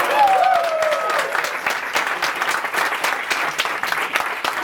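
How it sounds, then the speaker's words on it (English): A live show audience breaks into loud, sustained applause and clapping, with a brief voice at the start before the clapping carries on steadily. "I want the loudest clap for that"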